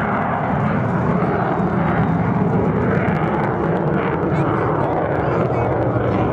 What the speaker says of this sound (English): ER-2 is a very overpowered aircraft down low